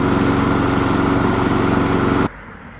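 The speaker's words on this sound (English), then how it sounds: "it seems like it's mower's running fine now" A lawn mower engine runs steadily and loudly at close range, its drone holding even for about two seconds before cutting off abruptly into near silence.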